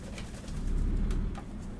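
A pigeon or dove coos outside in low, soft, rounded calls that rise and fall over a murmuring background, with no voice heard.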